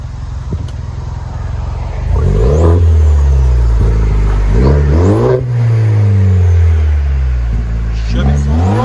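A loud, throaty Chevy Silverado 2.7L 4-cylinder turbo pickup revs repeatedly in short bursts, its muffler-deleted exhaust roaring up and settling back between blips, close by.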